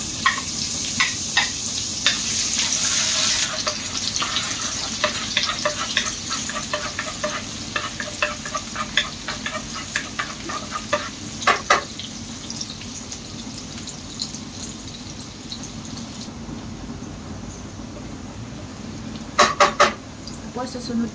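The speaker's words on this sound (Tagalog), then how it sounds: "Tapos gigisahin ko lang yung bawang." Garlic sizzles and fries steadily in a hot pan for pinakbet, with a spoon stirring and scraping against the pan at irregular moments and a few sharp utensil clinks near the end; no one speaks.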